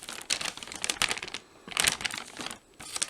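Flimsy plastic ration bag with a peelable seal from a 2019 South African SERAC MRE being handled, close crinkling and rustling in several short bursts separated by brief pauses.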